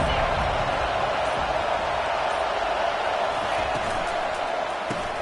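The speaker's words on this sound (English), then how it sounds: "This crowd bringing the energy and noise early." Stadium crowd at a football game roars steadily throughout, a dense broad wash of cheering and noise with no pauses.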